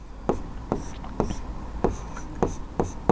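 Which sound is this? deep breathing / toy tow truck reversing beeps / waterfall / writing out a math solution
writing out a math solution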